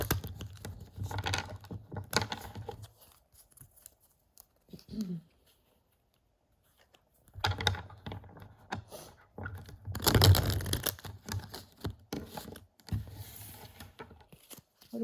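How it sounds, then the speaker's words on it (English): Close-up riffling and snapping of playing cards in several bursts, with brief quiet pauses between shuffles. "Let's go ahead and shuffle this deck a little bit."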